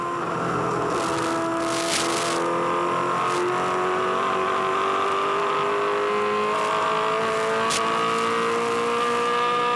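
Onboard a 2004 V8 Supercar at Pukekohe in wet, greasy conditions, the V8 engine roars continuously as it gently accelerates out of slow corners, its pitch climbing steadily through the gears.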